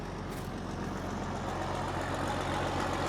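A Deuce and a half military truck idles after sitting unused for months, its diesel engine giving a steady low rumble with a constant throb, close and even throughout with no voices.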